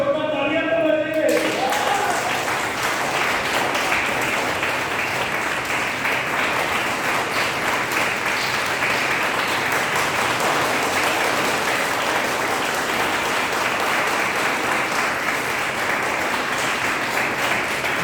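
An audience applauds at length with sustained, dense clapping that carries on steadily after a man's brief spoken remark at the start.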